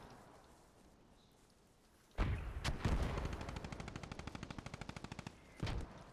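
Distant muffled blast followed by rapid sustained gunfire in the Post Scriptum war game, a steady machine-gun rattle with a final louder burst, no voices.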